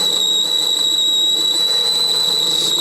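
A mini lathe tool squealing while cutting a groove in a motorcycle bung, a sustained piercing high-pitched whine that holds steady and loud over a continuous machining hiss, with no talking.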